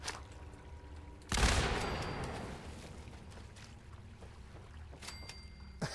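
Grenade explosion in a video game: a sudden loud blast bursts in after a quiet start, decays into rumbling debris and crackle, followed by scattered faint impacts and clicks.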